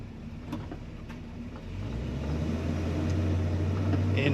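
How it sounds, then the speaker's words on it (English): A 1972 Chevrolet Cheyenne C10 pickup truck drives along with a steady low engine rumble that grows slightly as it moves, joined by road noise and a few faint clicks, with no talking. "In my opinion, a stock sounding truck."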